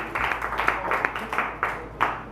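A comedy club audience claps for a comedian, rapid uneven handclaps from a small crowd sounding steady and moderately close, with faint background murmur.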